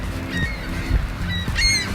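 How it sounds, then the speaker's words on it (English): Seagulls calling by Lake Michigan in northern Indiana, several sharp honking cries repeating in quick bursts over a steady background rumble, fairly close and loud. "Seagulls."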